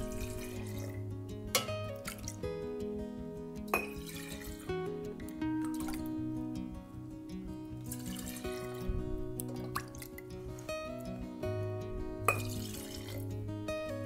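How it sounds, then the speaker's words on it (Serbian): Milk ladled into glass jars, one ladleful each, bringing soft pouring and dripping with occasional glass clinks at moderate loudness over a continuous low hum, with no voices. "U svaku teglu sipat ću po kutlaču mleka."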